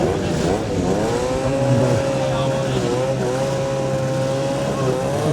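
A Yamaha racing motorcycle at the 2011 Manx Grand Prix Senior race, its engine whine holding a sustained, shifting pitch as it passes, with a commentator talking over it.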